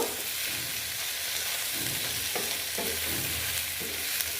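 Fish fat fries with salt in a pan, giving a steady, loud sizzling hiss throughout, with a few soft stirring scrapes and bumps near the end.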